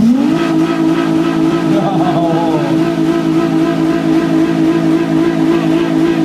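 A Nissan 350Z engine revs up sharply at a JDM car meeting and holds a loud, steady high-rpm drone close by, with no talking.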